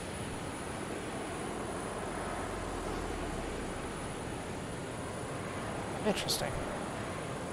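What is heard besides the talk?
aircraft engine at full power on runway, video game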